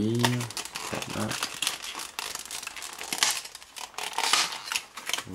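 Plastic packaging of an iPhone 4 case being opened up close, loud crinkling and crackling throughout, with a voice briefly heard at the start.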